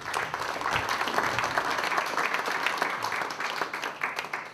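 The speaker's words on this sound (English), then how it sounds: "Could we give Caroline a clap in her absence" Audience clapping at an annual general meeting of Eastbourne unLtd, a steady, dense round of applause from a room of people lasting throughout, fairly close and even in loudness.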